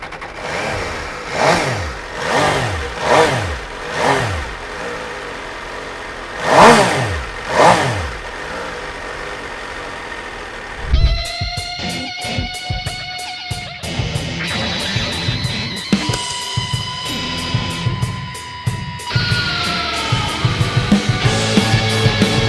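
An MV Agusta F3 675 sport bike fires up and revs: several rising and falling throttle blips at first, then a sharp start and a loud, busy idle with repeated quick revs, close and alone.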